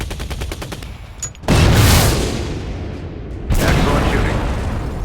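Heavy gunfire and booming explosions from the combat video game Shadow Strike, with rapid shots early on, then two loud blasts that roll into sustained rumbling battle noise.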